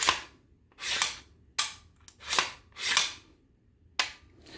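A Freedom Ordnance FX9 rifle is function-checked with sharp, close metallic clicks and snaps of trigger and action, about seven crisp bursts with short pauses.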